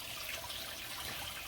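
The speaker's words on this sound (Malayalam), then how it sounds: "കൈ കൊണ്ട് തന്നെ ഇത് ബക്കറ്റിനങ്ങ് കോരി ഒഴിക്കാമെന്ന് വെച്ചാണ്" Liquid fertilizer mix of DAP and potash scooped by hand from a bucket and poured over cardamom plants on a plantation, a steady close splashing pour with no talk.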